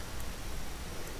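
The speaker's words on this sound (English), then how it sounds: "It actually stopped raining and then restarted." Steady rain falls in the zoo-building video game Planet Zoo, a dense, even hiss of downpour filling the short stretch with no breaks.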